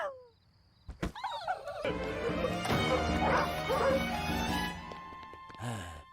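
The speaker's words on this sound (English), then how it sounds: "Hounds." Hounds barking in a cartoon scene from The Simpsons, several loud overlapping barks and yips over a busy music backdrop, followed by a short whimper near the end.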